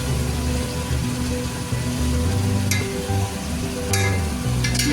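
Chicken pieces for biryani sizzle and fry steadily in oil in a pan over very low heat, a continuous close crackle with brief sharper spits now and then, no voices.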